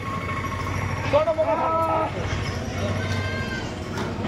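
Kathiawadi goats bleat at a livestock market, one wavering call rising clearly around the middle, close and fairly loud, while a voice continues underneath and around it.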